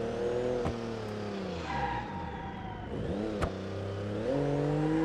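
A car drifts around a parking garage in the BeamNG driving game, its engine revving and shifting continuously while tires squeal, loud and close, with no talking.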